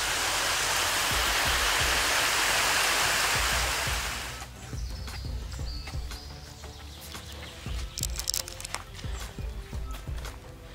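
A modest waterfall in Bosnia roars as a loud, broad rushing wash for the first few seconds, then drops away to quieter surroundings with scattered knocks and rustles close by.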